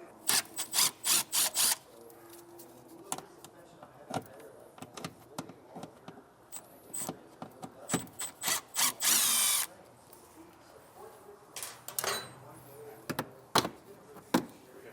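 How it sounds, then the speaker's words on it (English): Phillips head screwdriver removing screws from the rear fascia of a 2023 Kia Telluride during a trailer hitch install, with close, intermittent clicks and scraping bursts. A power-tool whir and brief handling noises come between them. "You're going to need a Phillips head screwdriver, and there's 2 screws facing towards the rear of the vehicle."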